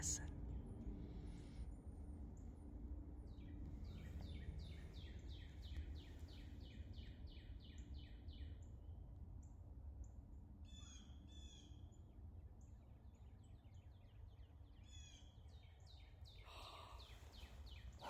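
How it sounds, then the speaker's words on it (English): Birds chirp in still outdoor air without wind, producing a faint scattering of repeated small calls and short bursts over a soft, steady background. "The wind's not blowing, just the birds"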